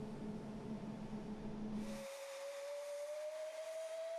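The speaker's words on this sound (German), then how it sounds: "Über 100 Jahre alt ist die Dampflok des Typs HG33, welche sich mit dem Nostalgiezug den Berg hinunter in Richtung Giswil windet" A more-than-century-old HG 3/3 steam locomotive on the Brünig line, hauling a nostalgia train downhill toward Giswil, gives off steady hissing steam and a sustained whistle tone that shifts pitch midway.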